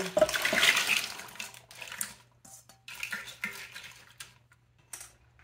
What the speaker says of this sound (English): Now we're going to need a little more water in there